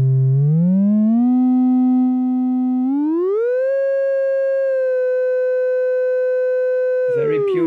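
A pure sine wave from a 555 VCO synthesizer module for AE Modular, a loud, smooth, clean tone that glides upward in steps, then holds steady for several seconds before bending down as a brief noisy burst cuts in at the end.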